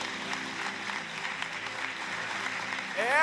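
A church congregation applauds during a sermon, a continuous patter of many hands at moderate loudness. A faint tonal sweep rises near the end.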